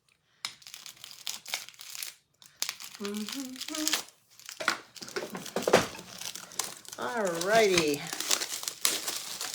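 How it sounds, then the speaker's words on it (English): Plastic packaging is crinkled and torn away from a wooden tray in close, irregular bursts, with a few brief spoken words and a high-pitched voice mixed in near the end. "I'm going to go ahead and unwrap this tray"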